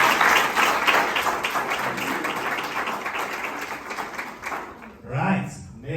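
Business masterclass audience gives a round of applause for a participant's trading business, a dense burst of clapping that thins out near the end as a voice starts speaking.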